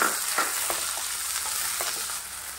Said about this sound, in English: Let's saute this for a while.